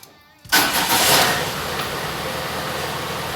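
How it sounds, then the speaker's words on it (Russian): A VAZ-21140 car engine cranks and catches after a brief quiet moment, then settles into a steady, close idle with no talking. "Так, запускаю двигатель."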